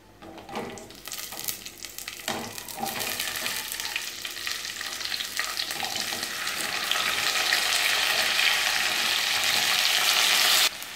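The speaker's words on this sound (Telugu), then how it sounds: "దీంట్లో నేను ఇప్పుడు మన వెజిటేబుల్ ముక్కలన్నీ యాడ్ చేస్తున్నాను." Vegetable pieces (carrot, tomato, drumstick, onion and brinjal) are tipped into a pan of frying cashews for sambar, and a loud, dense sizzle swells and holds steady at close range, broken early by a few stirring knocks.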